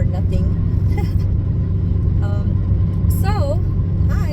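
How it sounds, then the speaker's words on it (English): A car cruising on a highway gives a steady low engine and road rumble throughout, with someone talking over it inside the cabin. "I just got on the highway"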